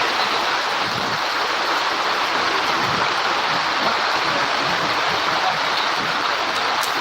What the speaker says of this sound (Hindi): देखो कितना पानी गिर रहा है, हमारे गाँव में बहुत पानी गिरा थे।